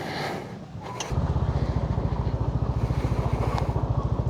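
A tractor engine chugs steadily and loudly close by, a fast regular low thumping beat that starts after a second of rumble, carrying riders on the way to waterfalls in Dingalan, Aurora.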